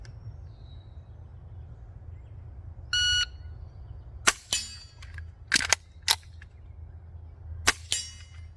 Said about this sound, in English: So total of 2 shots, 1 reload